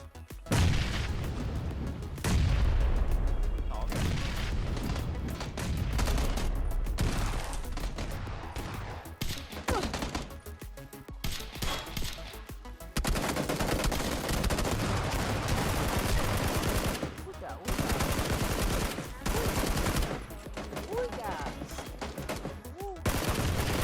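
Rapid gunfire from a suppressed S12K shotgun and an LMG, plus grenade blasts, in a PUBG fight at the military base: bursts of shots and booms in quick clusters, separated by brief pauses.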